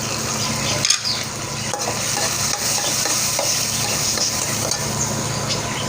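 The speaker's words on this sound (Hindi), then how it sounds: "इसको हम मसाले को अच्छे से भून लेंगे" Ground red chili and turmeric fry in a pan as the base for a spinach curry, sizzling steadily while a spoon stirs and scrapes against the metal, close and alone without speech.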